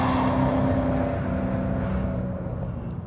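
A 2010 Ford Shelby GT500 Mustang at speed on a race track, its engine a steady loud roar with sustained tonal drone, easing slightly toward the end with no talk.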